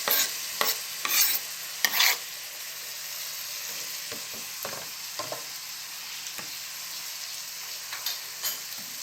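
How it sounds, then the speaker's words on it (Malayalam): Chopped tomatoes being stirred into Thalassery-style chicken dum biryani masala in a pan, with scraping strokes in irregular bursts over a steady soft sizzle, close and moderately loud. "നമുക്കിത് നന്നായിട്ടൊന്ന് മിക്സ് ചെയ്ത് മിക്സ് ചെയ്ത് കൊടുക്കാം"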